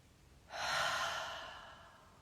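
A single long, deep exhale through the mouth during a guided meditation, a soft breathy rush that swells quickly, then fades slowly over about a second and a half, close and alone in a quiet room.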